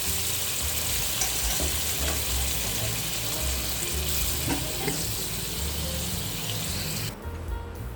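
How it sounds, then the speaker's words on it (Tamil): Steady, dense bubbling and sizzling of a pot of fenugreek rasam boiling vigorously, continuous and close, with faint clinks now and then. "இப்போ பாருங்கள், நல்லா ரசம் கொதிச்சிட்ருக்கு."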